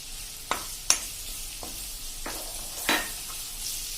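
Ground sesame powder roasting in oil in a pan for a Kathiyawadi whole-onion curry, a soft low sizzle punctuated by a handful of scraping spoon strokes, close and without speech.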